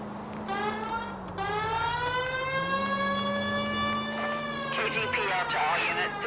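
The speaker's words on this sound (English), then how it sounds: "If you use the siren, maybe those metal things in front of you called cars will know you're in a hurry." A police car siren in the L.A. Noire video game wails with a steady rising and falling tone, loud and close throughout, with car engine noise underneath.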